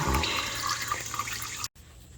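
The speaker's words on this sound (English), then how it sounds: "draining the fluid" Transmission fluid drains from a C20 Chevy in a steady, splashing pour that runs close and fairly loud, then cuts off abruptly near the end.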